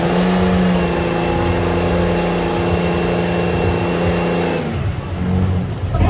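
A Cummins-powered and a Duramax-powered diesel truck roar hard at full throttle, locked in a tug-of-war, a loud steady engine drone that eases off near the end and then builds again.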